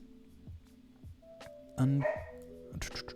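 A pet dog barks indoors: one loud close bark stands out, with smaller yips and household sounds around it.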